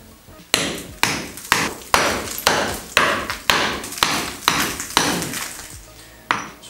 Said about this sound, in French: pour piqueter les murs, il y a plusieurs outils possibles. Le pic comme ça, le marteau